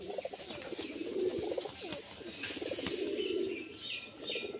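Female pigeon performing its display, with repeated soft cooing and bird calls in a steady run, close and moderately loud, with faint chirps above.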